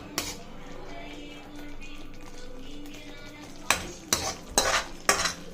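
A spoon stirs and scrapes through thick tomato chutney in a pan with a low bubbling simmer, then several sharp taps of metal against the pan's rim.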